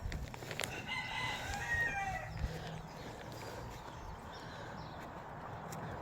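A rooster crows once from a short distance, clear and drawn out, over quiet outdoor ambience.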